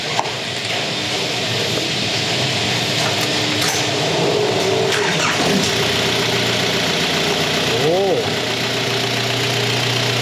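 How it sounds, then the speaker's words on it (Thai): An Isuzu Adventure 4x4 twin-turbo direct-injection diesel with a muffled exhaust idles steadily, a constant close rumbling drone, while people talk over it. "สตาร์ทให้ผมฟังนิดนึง จะเงียบๆหน่อยครับเพราะว่าท่อดักท่อเงียบ"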